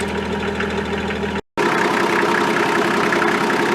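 A diesel Toyota Land Cruiser engine idles close by with a steady, clattering low rumble. The sound is cut for a brief moment before it resumes unchanged.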